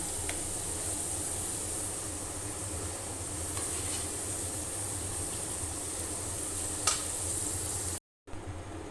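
Potatoes fry in a kadai for a Punjabi-style arbi dish, giving a steady, close sizzle with occasional scraping stirs and a brief cutout near the end.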